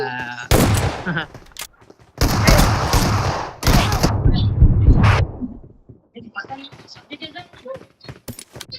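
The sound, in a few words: shotgun fire from a video game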